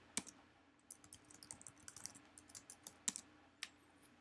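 Quiet typing on a computer keyboard while entering the sudo command, a run of light, irregular key clicks with a few sharper taps, close and alone.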